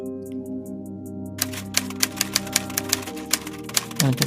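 Typewriter keys strike in a steady run of about a dozen crisp clacks from mid-clip, close and fairly loud over a sustained musical background, ending with a heavier carriage-return thump.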